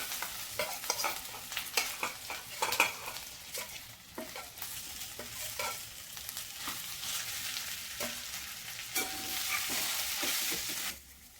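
Smashed boiled potatoes for batata vada being stirred and mixed in a pan, with repeated scraping strokes and soft sizzling at close range, louder near the end.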